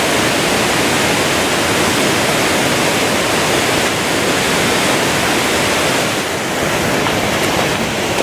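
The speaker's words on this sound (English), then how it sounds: "the green kicks out a beautiful waterfall that we're going to go up and check out right now" A waterfall in the mountains near Valdez, Alaska pours down in a loud, continuous roar of rushing water, dense and unbroken throughout with no voices.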